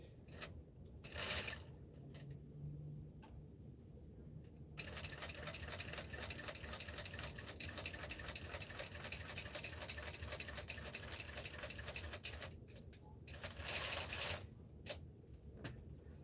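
Longarm quilting machine running under electronic control, a steady rapid mechanical stitching patter that fills most of the stretch, with brief pauses and a few louder clacks near the start and end.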